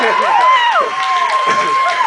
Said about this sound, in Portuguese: Palmas pra ele aí, pelo amor de Deus!